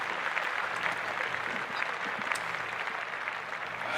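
Steady applause from a crowd, dense continuous clapping at an even level throughout, with no voices standing out.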